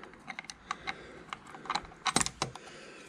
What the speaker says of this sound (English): I'll grab my deep socket and then we'll crack that one off